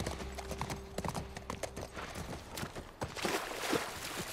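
Horse hooves clip-clop at a steady walking pace in the video game The Last of Us Part I, close by, with a brief snort and a bit of rustling as the ground sound changes partway through.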